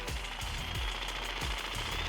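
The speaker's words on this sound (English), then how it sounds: "use a saw to create grooves in the factory metal collar" A saw cutting grooves in the factory metal collar of a differential bushing on a 2010 Camaro SS: a loud, harsh, continuous grinding with rhythmic pulses under a steady high whine.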